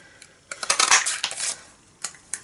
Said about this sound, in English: We're going to use a punch. And this is the timeless label punch